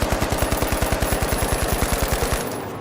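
Rapid automatic gunfire in a shooting video game, a fast, evenly spaced burst of roughly two dozen loud shots that stops abruptly near the end.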